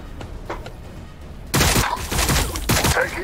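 Gunfire in the Warhammer 40k Battlesector video game erupts halfway through as a loud, dense fusillade of overlapping shots after a quieter opening.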